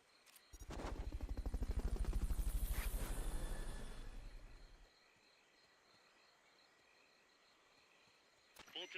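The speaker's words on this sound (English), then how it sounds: "Fulton recovery helicopter is complete." The Fulton recovery helicopter in Metal Gear Solid: Peace Walker sweeps in with a loud, rapidly pulsing rotor chop that swells and then cuts off, leaving quiet game ambience and a brief noise at the end.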